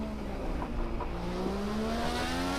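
An IndyCar engine in a racing video game on a flying lap, a steady high engine whine climbing in pitch as it accelerates through the gears, heard alone.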